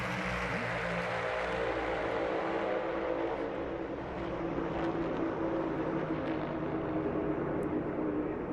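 Stock cars roar around the track together during second practice for the 2026 Daytona 500, a loud, continuous engine drone that stays steady and dense with no talking.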